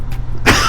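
A single sharp cough bursts out close to the microphone over a low rumble of road or engine noise during a motorcycle outing.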